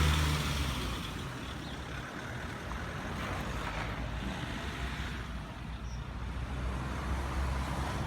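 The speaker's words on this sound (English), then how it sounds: "There are cars coming from all sides." Steady road traffic at a busy crossroads by a village pond in Cublington, with cars passing continuously from several directions, a constant near-to-mid-distance rumble and swish without speech.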